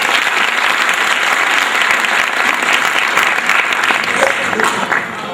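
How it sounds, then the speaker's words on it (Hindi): Loud, sustained applause from an audience at a Pasmanda Muslim Samaj gathering in an auditorium, welcoming the state president, dense clapping filling the hall steadily before easing slightly at the end. "उनका भी जोरदार तालियों से इस्तकबाल है"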